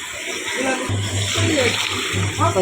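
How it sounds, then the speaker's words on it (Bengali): Water poured into a large pot of potato and spice curry being cooked on a wood fire for a big cauliflower masala batch, a short splashing gush alongside a voice talking. "জল দিয়ে দিচ্ছি"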